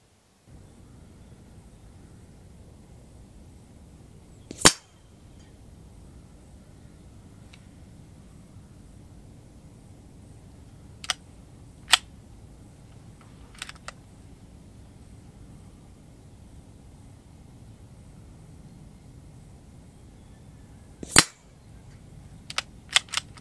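Sparse, sharp reports from a CZ 457 Royal .22 LR rimfire rifle firing ultra low noise, low velocity ammunition at an outdoor range: two main cracks about sixteen seconds apart plus several fainter pops, over steady hiss.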